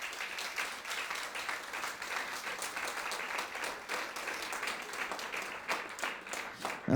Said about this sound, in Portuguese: Dá uma salva de palmas a Deus